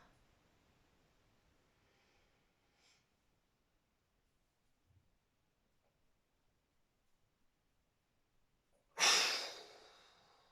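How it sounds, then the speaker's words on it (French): A single deep exhale during a relaxation exercise comes near the end as a close, breathy rush of air after long near-silence, with only faint soft breaths before it. "reprenez une respiration naturelle"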